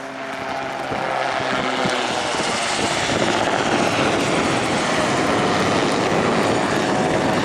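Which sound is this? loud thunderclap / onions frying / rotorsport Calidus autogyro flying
rotorsport Calidus autogyro flying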